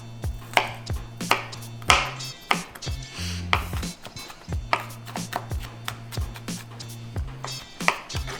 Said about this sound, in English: And then we're gonna want to just chop it really small into a mince-like size.